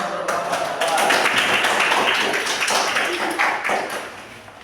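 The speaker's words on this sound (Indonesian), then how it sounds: "beri tepuk tangan untuk Bapak" Audience applause for a presenter during a class session on sermons and preaching, steady moderate clapping from a group that holds for several seconds and then fades slightly, with some talk mixed in.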